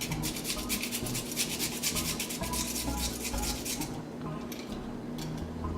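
A daikon radish scraped on the small holes of a grater, rapid rough rasping strokes in quick succession up close, ending in a brief softer pause.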